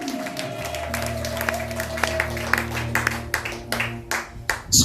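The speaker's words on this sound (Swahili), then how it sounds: "Pigie Bwana makofi mengi na vigelegele" A church congregation claps for the Lord in scattered, uneven bursts that grow denser toward the end, over a sustained droning tone.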